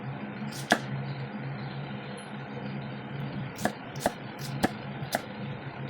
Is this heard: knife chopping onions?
yes